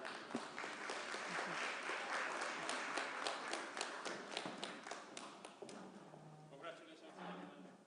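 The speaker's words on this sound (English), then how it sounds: "Let's give that another round of applause." A business forum audience applauds in a burst of dense clapping, loud and close, fading to scattered claps with a voice starting up at the end.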